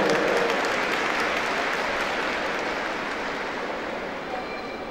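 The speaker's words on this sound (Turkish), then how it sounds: "28 Haziran Ortaokulu 6B sınıfından alkışlıyoruz" Audience applause at a school art award ceremony in İzmit, a loud, dense wash of clapping that starts at full strength and tapers slightly over about five seconds.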